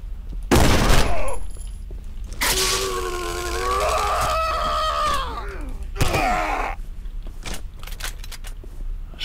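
Gunfire in the horror game Condemned: two sharp, loud shots a few seconds apart, with drawn-out groaning, wailing cries from an enemy between them and faint clatter afterward.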